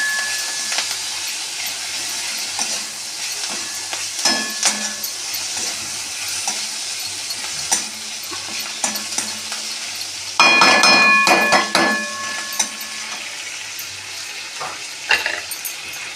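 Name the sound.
onion and tomato frying in a pan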